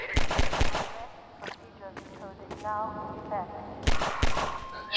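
Gunfire from Combine soldiers in the video game Half-Life 2: several sharp, loud shots in quick bursts at the start and again near the end, with game sounds in between.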